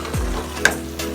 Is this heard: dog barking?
no